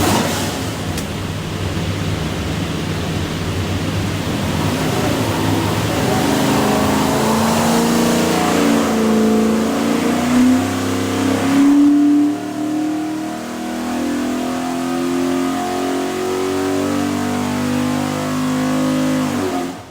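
A 508 hp stacked 408 Windsor V8 with Borla exhaust, built for a De Tomaso Pantera, pulls hard on a dyno, its loud steady roar rising in pitch through the run before a brief lift and renewed climb.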